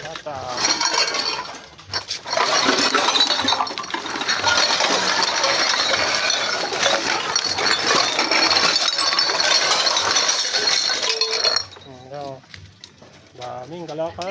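Bottles and cans clink and clatter continuously as scrap junk is sorted, a busy metallic and glassy jangle close by, with people talking during and after it.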